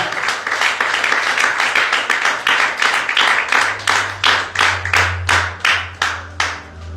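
A church congregation claps and applauds together during a Pentecostal mission service, a steady run of sharp, loud, close hand claps thinning into separate slower claps toward the end, with no talking.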